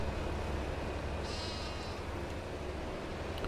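A single sheep bleat in Farming Simulator 25 rises briefly over a constant low outdoor rumble of rain and weather, moderately distant and alone.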